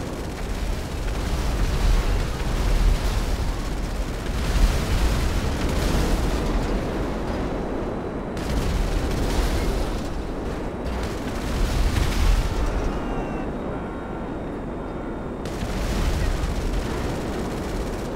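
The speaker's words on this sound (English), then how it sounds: "Notice how I don't even have to land my shots close to the cars for all of them to just blow up as I shoot the cannon in a line." In the GTA Online video game, the Lazer jet's explosive cannon blows up a line of cars in a parking lot, producing a nearly continuous roar of rapid cannon fire and overlapping explosions, broken by brief pauses between long bursts.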